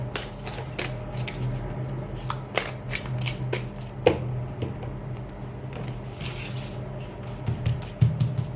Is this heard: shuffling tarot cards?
yes